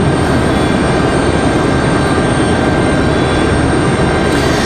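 A Southwest airliner takes off from runway 23 left at Raleigh-Durham International, its engines a loud, steady broadband roar that holds without letup from start to finish.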